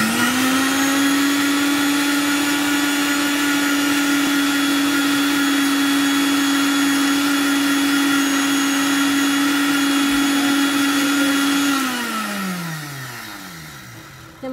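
A kitchen blender whirs loudly and steadily while beating oil into mayonnaise for macaroni, then winds down with a falling pitch as it switches off near the end.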